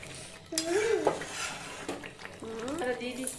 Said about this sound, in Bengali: এটা একটু নাড়িয়ে নিই।